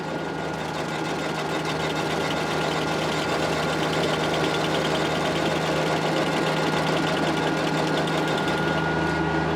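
A small tractor drives a PTO stump grinder while clearing a lot, the engine and grinder droning steadily and loudly with a constant vibrating hum and no break across the whole stretch.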